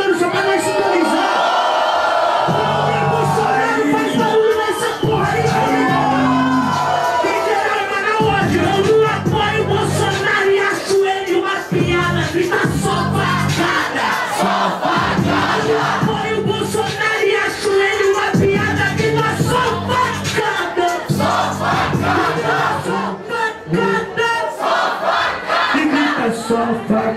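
A dense crowd at a street rap battle cheers, yells and whoops continuously with loud, sustained energy, voices overlapping in a roaring wall of sound throughout.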